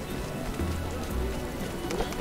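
Rain falling in The Witcher video game, a steady soft patter on surfaces, faint and continuous with a low rumble beneath.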